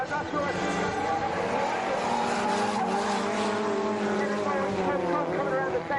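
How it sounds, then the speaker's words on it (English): Drift cars race over a hill at a European drifting series event in Sturup, Sweden, their loud, sustained engines wailing and shifting pitch as they throw up tire smoke, with a commentator's voice likely over the noise. "A lot of speed coming over the hill, a lot of tire smoke and rubber billowing from the back of these cars"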